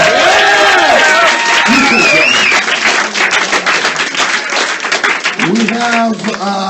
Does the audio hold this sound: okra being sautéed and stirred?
no